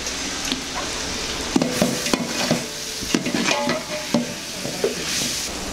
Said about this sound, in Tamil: வெஜிடபிள்ஸ் போட்டு ஒரு 2 minutes வெஜிடபிள்ஸை வதக்கிட்டு